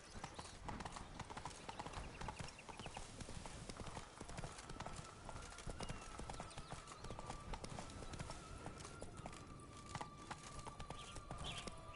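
Roach, Geralt's horse in The Witcher 3, gallops with rapid, continuous clip-clop hoofbeats for the whole stretch, loud and close over outdoor game ambience.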